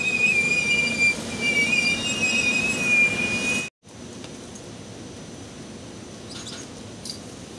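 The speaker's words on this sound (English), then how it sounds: "It's an airport bound train." An airport-bound train passes at Elkins station with a loud, sustained metallic wheel squeal over rumbling rail noise, which cuts out abruptly midway, leaving a steadier rolling rumble of the passing cars.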